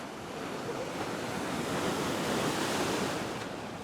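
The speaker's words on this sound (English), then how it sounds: "it's a wave coming." An ocean wave breaks on a rocky fishing shore with a broad, steady rush of surf that swells toward the middle and then slowly eases, with no voices over it.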